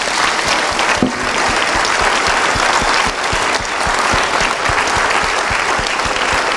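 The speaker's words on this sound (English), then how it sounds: "So maybe a round of applause for our panelists." An audience at a panel event on whether we are alone in the universe applauds its panelists with steady, dense clapping that carries at full strength throughout.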